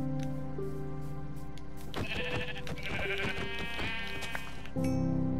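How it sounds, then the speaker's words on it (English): Sheep in the Minecraft video game bleat in a short series of wavering calls, moderately loud over a steady game background, with no talk. "Multiple sheeps."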